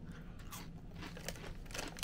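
Someone bites and crunches a Triscuit Rosemary Jalapeño wheat cracker, giving close, crisp crackling bursts in an irregular chewing rhythm with no talk.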